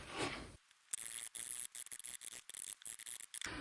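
Repeated rapid stabbing of a bigger gauge felting needle into wool while sculpting a felted turtle, heard up close as a quick irregular series of short scratchy pokes with brief pauses between bursts.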